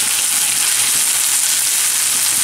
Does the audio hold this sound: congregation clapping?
no